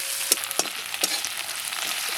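Food sizzles steadily in a pan during a village-style Nepali-Indian home cooking session, a bright continuous hiss broken by a few sharp clinks of stirring, with no talk.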